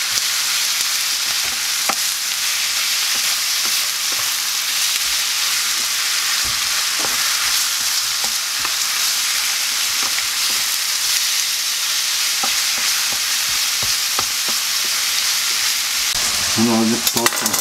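Chopped onions and chicken sizzle and fry steadily in a hot pan for a sandwich filling, with occasional scrapes and clicks of stirring throughout and a brief clatter near the end; no one speaks.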